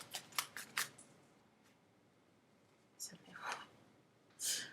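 Quick bursts of tarot card shuffling, a rapid papery riffle followed by a few softer slides and flicks, with a quiet breathy voice in between.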